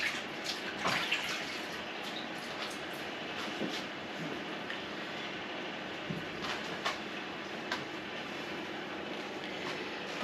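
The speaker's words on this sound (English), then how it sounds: "Quick wash of the hands." Hands rinsed under a running kitchen tap while making a pork pie, a steady broadband splash of water with a few brief louder spatters, fairly close and without any talking.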